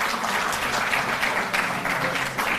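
Loud, sustained crowd applause at a sports honours ceremony, dense clapping continuing steadily throughout without pause.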